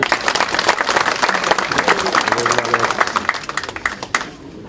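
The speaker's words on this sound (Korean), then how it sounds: "뜨거운 박수를 보내줘서 몸이 훅 달아오른 것 같습니다" An indoor audience at a political party caucus and committee meeting claps in a dense, sustained round of applause, loud and close, thinning into scattered claps at the end.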